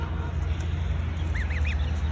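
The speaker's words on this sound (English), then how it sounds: "That's a little duckling." A few soft, high quacking peeps from a duckling a couple of weeks old rise over a steady low rumble of background noise, coming in a quick cluster near the end.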